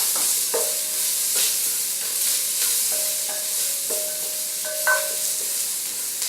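White onions dropped into a pot of hot oil with tempered curry leaves for sambar, giving a steady, moderately loud sizzle with occasional stirring scrapes and clinks, close and without voices.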